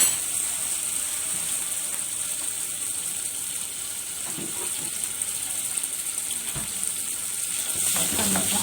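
Crushed garlic frying in a pan for an okra dish, a soft steady sizzle with occasional light scraping and stirring noises, rising slightly toward the end.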